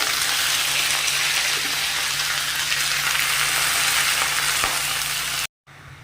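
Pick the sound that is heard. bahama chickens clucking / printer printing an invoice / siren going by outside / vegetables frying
vegetables frying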